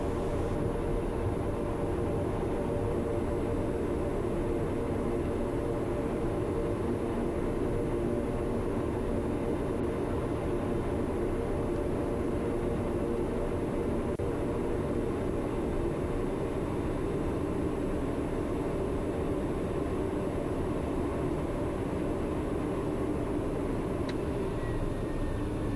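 A TBM 900 turboprop taking off in a flight simulator, a steady, unbroken engine roar and rumble holding at even loudness throughout, with no talk over it.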